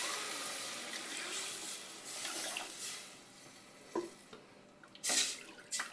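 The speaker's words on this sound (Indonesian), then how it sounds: "saatnya kita masukin air" Water poured into a cooking pot for chicken soto, a soft running stream with a few sharper splashes and clinks near the end, heard alone without talk.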